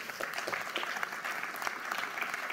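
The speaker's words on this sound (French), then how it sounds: "on peut les applaudir, bien sûr, tous les deux" A conference audience applauds steadily, a dense even patter of many hands, moderately distant and fairly soft, with no voices over it.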